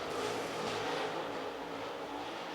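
Super late model race cars on the Cherokee Speedway track during a heat race: a steady, loud engine roar holds for the whole stretch, with no voices.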